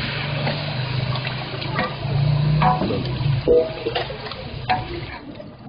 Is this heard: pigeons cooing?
no